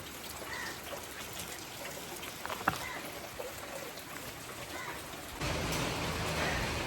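Rain falls steadily outside a house as a faint, even hiss. Near the end the wash grows louder and denser.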